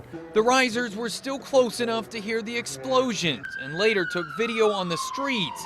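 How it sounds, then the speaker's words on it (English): Emergency vehicle sirens wail on Boston streets in the aftermath of the marathon bombing, a steady descending tone audible in the background beneath continuous talking. "You can hear the sirens in the background."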